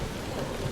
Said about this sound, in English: watching the storm thrash against the glass